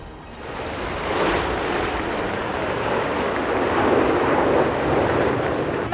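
Red Arrows display jets roar past at a seaside airshow, a loud, sustained broadband jet rush that swells and holds steady for several seconds with no talk.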